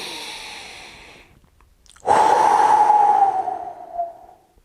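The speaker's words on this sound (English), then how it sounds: "Inhale through your nose, fill up your belly, your cave, your diaphragm, push down." A single deep breath drawn slowly through the nose, a loud, close airy rush lasting about two seconds that tapers off, after a quieter exhale-like hiss and a brief pause.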